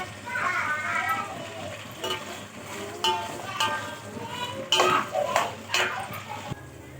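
Drumstick and vegetables stirred in a cooking pot for sambar rice, with intermittent metallic clinks and scrapes of a spoon against the pot while a voice and other chatter carry on in the background.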